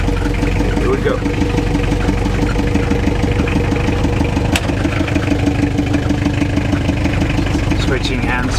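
A 1928 Dodge 124 car moves slowly in first gear at idle, its engine giving a steady, loud, even rumble with a faint rattle throughout.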